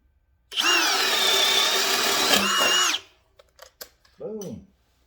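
A Ridgid cordless power tool on a fully charged battery whirs loudly at steady speed for a few seconds, then winds down. Brief clicks and a short voice follow.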